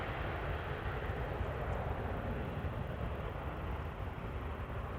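An airliner departing Amsterdam Schiphol Airport, climbing slowly on a heavy or derated takeoff, heard as a steady, broadband engine roar from a distance with no break.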